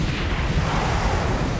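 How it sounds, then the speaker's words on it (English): Constant rumbling explosions from the video game EDF, a dense, loud roar of overlapping blasts and booms with no pauses and no voices over it. "That's the random explosions you see."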